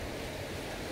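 The Lambunao river runs in a steady, dense rush of water noise that fills the whole moment, close and loud with no pauses, wind buffeting mixed in.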